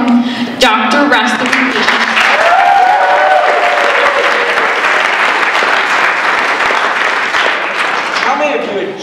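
A stage audience applauds loudly and steadily for a speaker's entrance, with cheers and a voice rising over the dense clapping throughout.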